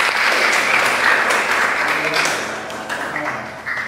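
Classroom applause for a student after a university lecture answer, a steady dense patter of many hands clapping at once that thins and fades slightly toward the end, with some voices mixed underneath.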